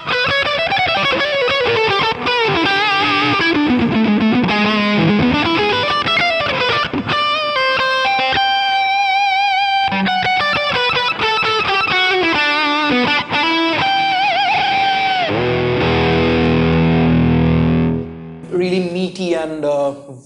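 Electric guitar played through a Neural DSP Archetype Tom Morello plugin on its JG lead preset, a loud, sustained distorted lead line with bending, sliding notes and fast runs, ending with a few choppy stabs.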